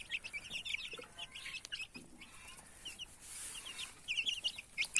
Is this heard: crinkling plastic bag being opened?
no